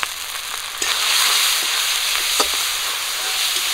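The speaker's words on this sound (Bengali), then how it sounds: "সবগুলো মশলা হালকা করে একটু ভেজে নেব" Spices with green chillies, mustard paste, chilli powder, turmeric and salt fry in a pan for a Bengali pabda fish jhal with brinjal, giving a steady broadband sizzle that swells after a moment, with a few soft stirring scrapes and no voices.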